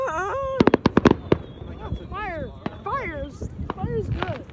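July 4th fireworks from a combo crackle and pop in a quick burst of sharp bangs, followed by whistling, wailing rising tones, with voices close by.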